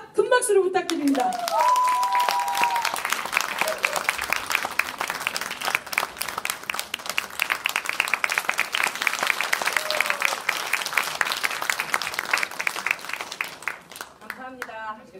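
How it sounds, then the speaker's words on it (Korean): A live pansori audience bursts into loud, sustained applause and clapping that fills the hall for several seconds, with a few shouts and a voice over the start and end. "고현미 명창 큰 박수로 부탁드립니다."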